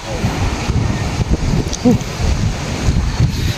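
Rough sea and gusty wind at a rocky shore in Gumaca, Quezon, with a constant heavy rumble of surf and wind buffeting the microphone, while people talk faintly underneath.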